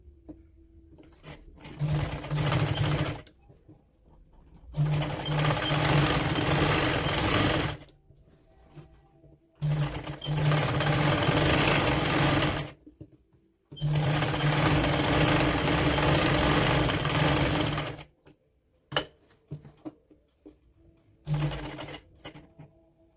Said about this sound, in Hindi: यहाँ किनारे पे हमने सिलाई लगानी है